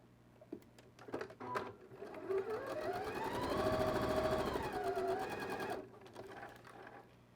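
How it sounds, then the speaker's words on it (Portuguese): A sewing machine runs a continuous burst of stitching on fabric for a zippered pouch, whining up to speed and holding steady for a couple of seconds before stopping, with a few handling clicks before it starts. "vou fazer uma costura aqui inicial só para prender esse meu primeiro tecido"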